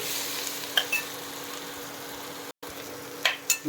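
Chopped ingredients sautéing in a pan for Maggi noodles give a soft, steady sizzle, broken by a few quick scrapes of a spatula and one brief dropout.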